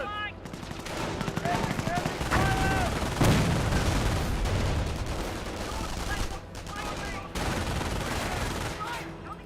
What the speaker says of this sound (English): MP42 firing away, suppressing these forces.